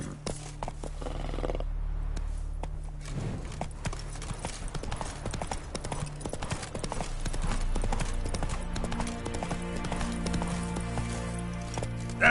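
Roach, a horse in the video game The Witcher 3, gallops with rapid rhythmic hoof clip-clops over game music and ambience, with a brief whinny and faint voices.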